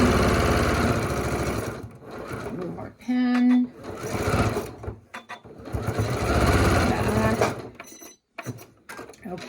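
A sewing machine stitches elastic into a fabric face mask, running loud in bursts with brief pauses between them, while a voice talks over it.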